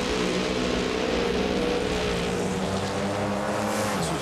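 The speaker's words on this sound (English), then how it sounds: "This was just a good old drag race right here" Pro Stock motorcycles drag race at the Super Nationals in Englishtown, New Jersey, their engines a loud, sustained high-revving roar with rising pitch as the bikes accelerate down the strip, the sound filling the whole moment without a break.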